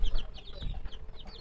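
Silver Sebright bantam chickens, two hens and a rooster in a backyard coop, give soft high clucks repeated several times, faint over a low rumbling background.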